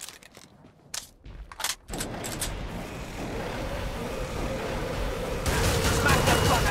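Gunfire in a video game, a dense run of shots and explosive bursts that swells into sustained loud fire after a sparse, choppy opening, with a voice speaking over it.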